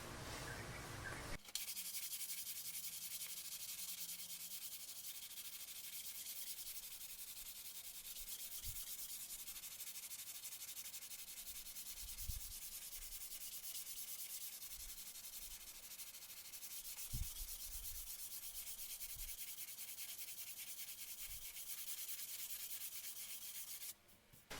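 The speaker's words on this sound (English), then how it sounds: "I'm just going to hand sand all these other areas with some 320 grit and go from there" A left-hand Tele-style electric guitar kit body is hand-sanded with 320 grit sandpaper, a continuous close rasp of sanding strokes with occasional soft low thumps underneath.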